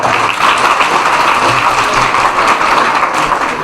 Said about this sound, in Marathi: एकदा जोरदार टाळी या लोकांसाठी